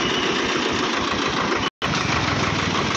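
Tractor engine running steadily while riding along a town road, a loud continuous mid-pitched rumble with rhythmic low thumping, broken by a brief dropout near the end.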